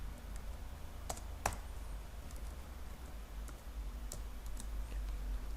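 Key clicks from code being typed on a computer keyboard, an irregular patter of taps with a few sharper strikes over a steady low room hum, close and fairly quiet, with no talking.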